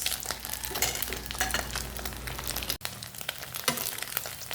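Beef loaf pan frying for breakfast, a steady crackling sizzle with stirring and scraping sounds, close and clear, briefly interrupted by a short clatter before the sizzling resumes.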